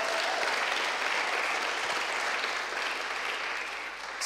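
A church congregation claps at a Vision Sunday service: dense, sustained applause that carries on for several seconds, then eases slightly at the end, with no cheering clearly standing out.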